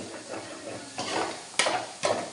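Onion, four green chillies and three tomatoes sautéing for a fish curry, a constant close sizzle broken by three or four sharp stirring scrapes of a spatula against the pan.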